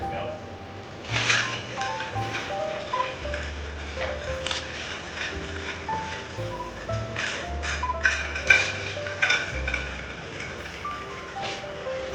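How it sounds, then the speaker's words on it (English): A bar spoon stirs a Black Russian cocktail of vodka and coffee liqueur, giving light, irregular taps and pings against the glass over steady background music. "So now I'm going to stir the drink."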